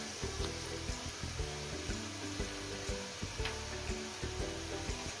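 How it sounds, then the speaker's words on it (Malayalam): Jaggery melting in a pan for an Onam lemon curry, giving a soft continuous sizzle and bubbling under a repeating background tone, close and fairly quiet, with no talking. "പാത്രം വെച്ചിട്ട് നമ്മൾ ആ ശർക്കര ഒന്ന് ഉരുക്കിയെടുക്കും."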